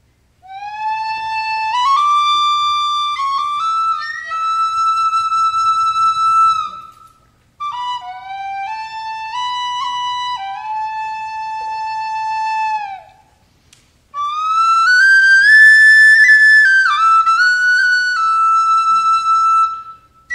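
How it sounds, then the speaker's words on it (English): A bright tin whistle plays a lilting tune solo, notes sliding and trilling in clear phrases with short pauses between. "So that was the penny whistle."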